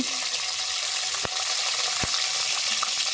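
Whole spices and green chillies frying in hot oil for a biryani, a loud continuous sizzle with two sharp pops standing out, no voices.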